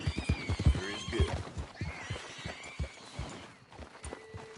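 A horse in the video game Red Dead Redemption 2 whinnies loudly up close, and hooves clop unevenly on the ground beneath it.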